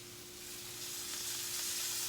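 Cabbage frying in oil in a pan, a steady, dense sizzle that builds slightly louder over two seconds, with no talking and a faint hum underneath.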